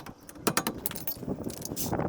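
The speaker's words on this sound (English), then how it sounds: "removing this caliper assembly" Metal parts clink and rattle while a brake caliper assembly is removed from a 2014 Toyota Sienna, giving a quick scatter of close, light metallic knocks and jangles over about two seconds.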